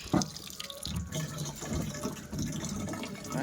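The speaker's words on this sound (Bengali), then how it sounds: "এই যে দেখো জল, কি বাবা ড্রামে একটা জল পড়ছে না, সব বাইরে পড়ছে গো।" Water gushing from an outdoor tap and splashing outside a drum rather than into it, a steady close splatter and trickle with small irregular drips.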